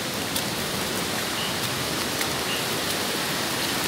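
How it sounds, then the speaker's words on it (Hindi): Heavy rain pours steadily during a foot march toward a bridge near Kaying in Siang district, Arunachal Pradesh, a dense, even hiss with scattered drop impacts and no talking. "इतना बारिश है।"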